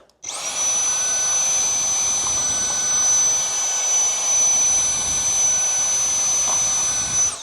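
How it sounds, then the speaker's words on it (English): A Dyson vacuum cleaner runs continuously at close range while cleaning a dirty Levoit air purifier filter, giving a loud, steady high-pitched whine with a constant tone that starts abruptly and holds throughout. "But to clean it, we can just vacuum it."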